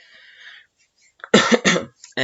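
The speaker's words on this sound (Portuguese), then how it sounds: "estou com um pouquinho de tosse" A person coughs a few times close up, short harsh bursts after a faint lead-in, with brief gaps between them.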